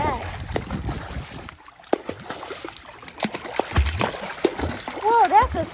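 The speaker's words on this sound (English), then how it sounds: "Whoa, that's a splash." A baby splashing in water, irregular slaps and sloshes scattered through the clip, close and moderately loud, mixed with children's and adult voices talking and calling out.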